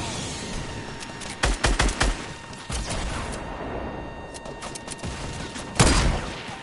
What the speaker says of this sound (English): They're spamming bullets.